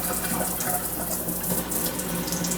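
A newly installed kitchen sink faucet runs fully open, a steady close hiss and splash of water streaming into the basin with no talk.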